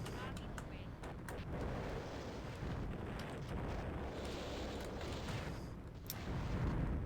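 Missiles bursting in the space combat game Escape Velocity Nova, a dense, continuous rumble of explosions with sharp crackling hits scattered throughout, swelling louder toward the end.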